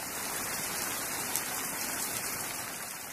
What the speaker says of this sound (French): La pluie faisait un boucan d'enfer.